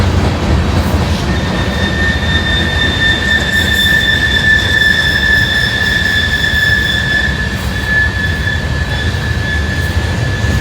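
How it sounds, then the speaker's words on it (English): A train hauled by an ex-CSX locomotive rumbles steadily close by, heading downhill toward the Ohio River at Ludlow, with a thin, high wheel squeal sustained over the continuous rolling roar of the cars. "Looks like an ex-CSX locomotive there."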